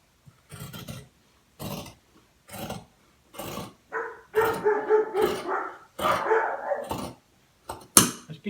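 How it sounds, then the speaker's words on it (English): A neighbour's dog barks in a series of sharp, repeated barks at moderate distance, spaced irregularly at first and then running into louder, more continuous bursts of barking. "Must be somebody's home. Give your dog going off."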